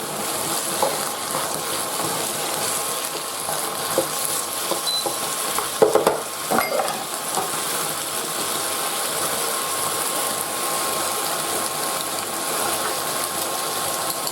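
Beaten eggs for an omelette frying in a pan, part of a sweet potato and tomato sauce dish, give a steady broadband sizzle with a few brief louder scraping stirs near the middle and no talking.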